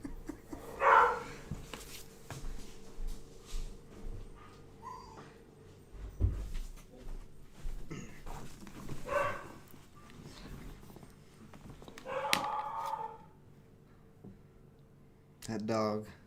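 A dog barks in scattered bursts at a home desk setting, with a few whimpers and yips between long quiet gaps, fairly faint and somewhat distant.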